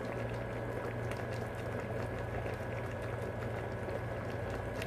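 Stingray simmers in coconut milk with a steady, even bubbling hiss that stays constant from start to finish.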